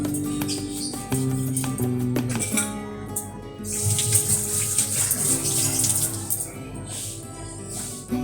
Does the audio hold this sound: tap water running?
yes